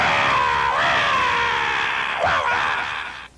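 A human voice imitates a monster's long, harsh primordial scream, a loud sustained shriek with a brief waver near the end before it trails off, heard alone without other talk.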